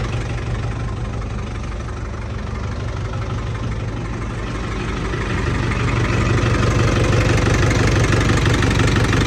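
A Hino dump truck's diesel engine idles steadily, a loud, close, continuous low rumble that grows slightly louder toward the end, with no voices.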